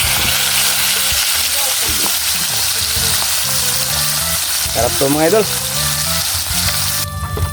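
Five pieces of daing, dried fish, frying in a pan with a loud, continuous close sizzle and crackle, while a voice speaks over it briefly.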